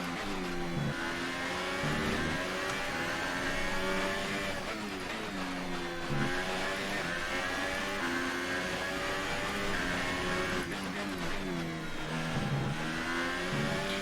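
Formula 1 car engine in F1 2018, a loud high-pitched whine rising through gears and dropping sharply at each shift, repeating over and over as the car accelerates and brakes through corners.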